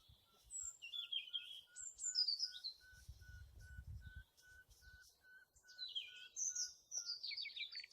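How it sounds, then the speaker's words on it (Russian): A woodpecker taps far off in an autumn forest by Lake Khalturino, a faint, evenly spaced knocking that runs steadily beneath chirping songbirds. "Там дятел стучит где-то далеко."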